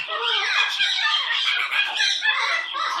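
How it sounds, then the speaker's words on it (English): A pet bird squawks excitedly without a break, shrill, harsh and close, in rapid overlapping bursts. "I love that you're a happy bird."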